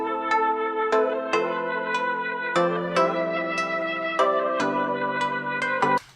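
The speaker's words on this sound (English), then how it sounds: "Let's do it with the flute and without the bell." A trap beat melody led by flute over guitar, with no bell layer, plays as steady, loud, sustained tonal phrases with a repeating chord pattern and periodic accented hits, ending abruptly near the close.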